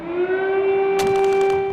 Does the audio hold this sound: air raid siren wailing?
yes